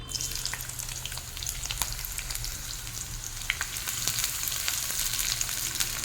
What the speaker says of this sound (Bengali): এর মধ্যে এখন দিয়ে দেবো কুচনো পেঁয়াজ আর দুটো হাফ চেরানো কাঁচা লঙ্কা